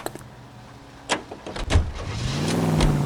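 A period car in L.A. Noire starts up with a door clunk and engine turnover, then the engine rises into a revving pull-away, close and moderately loud.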